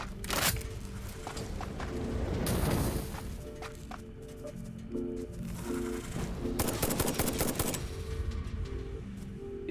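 Repeated gunfire in the factory-building game Satisfactory, aimed at a creature near a crashed ship: dense, rattling bursts of shots come in waves with brief lulls between them.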